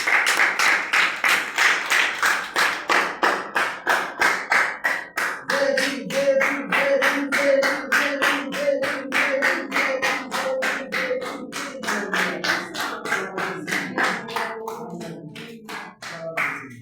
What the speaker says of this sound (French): Applaudissons très fort pour Jésus.